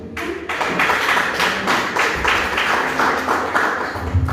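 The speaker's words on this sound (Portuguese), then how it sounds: "A igreja senta, aplaudindo o Senhor." A church congregation applauds while seated, a dense steady wash of many hands clapping in a large room, continuous and fairly loud with no speech over it.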